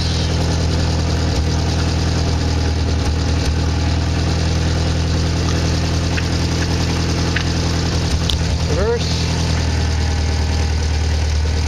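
Triumph TR3A engine running steadily through a gear test, a continuous mid-low drone at a constant level with a brief rising sweep near the end, no talk.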